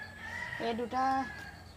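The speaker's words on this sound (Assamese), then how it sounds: "এজনী কুকুৰা পাৰি আছে আৰু এজনী পাৰিবলৈ মানে জেগা বিচাৰি ফুৰিছে।" A hen gives a single drawn-out, wavering cackle at close range in a backyard poultry coop where hens are laying eggs. The call rises and falls over quiet background noise.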